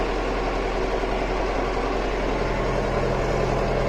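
A farm vehicle's engine idles before heading out to sow soybeans, a steady, low, even rumble with a constant vibrating drone and no speech.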